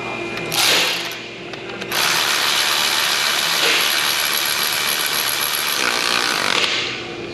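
A ratchet clicks rapidly and closely in steady bursts while tightening the lower alternator bolt on a Hyundai Palisade, with brief pauses between strokes.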